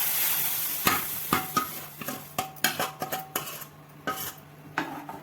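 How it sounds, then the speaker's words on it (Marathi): Roasted semolina stirred into boiling porridge in a pot, a spoon scraping and clinking against the metal in a quick irregular series of strokes, fairly close, with a soft bubbling simmer underneath and no voices. "हे मिश्रण व्यवस्थित हलवून घ्यायचं."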